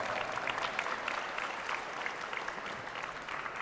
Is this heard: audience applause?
yes